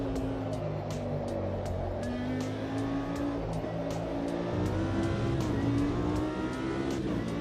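Race car engine in Automobilista 2 droning steadily and shifting pitch for the whole stretch, loud and close, revving up toward the end of a lap run on slightly warm tyres.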